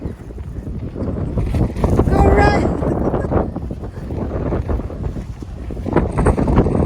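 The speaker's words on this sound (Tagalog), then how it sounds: "Ang lakas ng hangin." Strong wind buffets the microphone in a steady roar throughout, with people talking and shouting over it.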